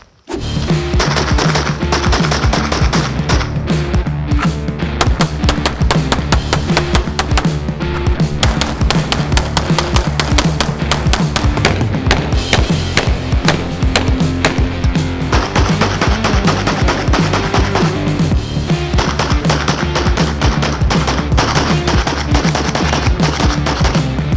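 Rapid handgun fire at close-range targets in an intermediate shooting drill: a dense, loud, nearly continuous barrage of shots that runs unbroken for the whole stretch, with no voices.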